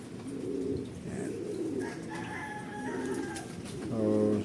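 A bird coos in low, soft repeated phrases through the clip, with a louder, closer burst near the end over a faint background hiss.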